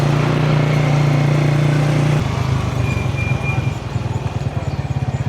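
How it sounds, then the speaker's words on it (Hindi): A motorbike or small vehicle engine idles close by in a narrow lane, a steady hum that drops into a rougher, pulsing throb partway through, with no talk over it. "इधर से गाड़ी निकल रही है ना"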